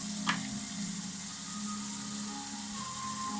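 Butter sizzles steadily in a pan while cooking vegetables for a chicken, bacon, mushroom and cheddar pie, a constant close frying hiss with a small clink near the start and no talking.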